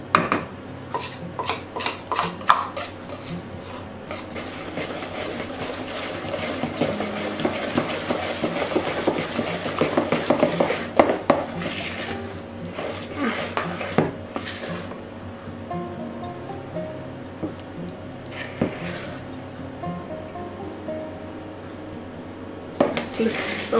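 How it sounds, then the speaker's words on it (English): A spatula scrapes and taps against a bowl while melted chocolate and butter are folded into a dessert mixture, giving repeated clinks and knocks with softer rubbing strokes between them and brief voice in the background. "now I'm gonna fold in the melted chocolate"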